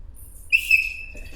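A single sharp blast from a referee's whistle at a wrestling practice, clear and fairly close, followed by quiet room noise.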